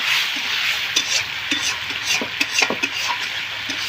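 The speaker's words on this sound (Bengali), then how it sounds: "আমি এগুলো এখন কষিয়ে নিচ্ছি" Spring onions and garlic leaves sauté in a hot pan with a steady close sizzle, punctuated by scraping and clinking stirs of a spatula against the metal; no one speaks.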